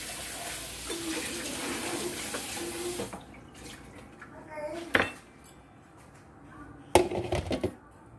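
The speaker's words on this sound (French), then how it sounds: "on va rincer ça" A kitchen tap runs in a steady gush for a few seconds as something is rinsed. It then stops, and dishes and utensils clink and clatter intermittently.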